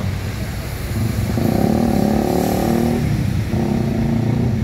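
A tour bus pulls into a busy bus terminal, its diesel engine a low, steady rumble that swells and holds a humming tone as it rolls closer, with no voices over it.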